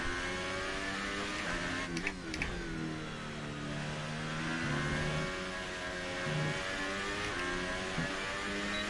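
An F1 2018 race car engine in the video game, lapping the Germany circuit on ultra-soft tyres, whines steadily with rising and falling revs and quick gear-shift dips, close and continuous.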